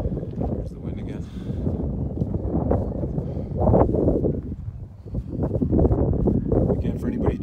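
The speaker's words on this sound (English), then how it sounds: "There's the wind again." Gusty wind roars across the open granite-walled ruins of Sacsayhuaman outside Cusco, Peru, buffeting the microphone with a loud, continuous low rumble that surges and eases, while someone speaks intermittently underneath.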